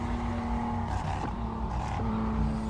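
A classic Porsche race car climbs a hillclimb course, its engine a steady loud roar from close by, with a couple of brief throttle lifts and shifts breaking the drone.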